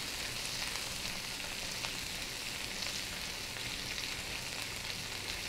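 Celery stir-frying in a Breville Hot Wok, making a steady, dense sizzle that hisses loudly and evenly all the way through with no pauses.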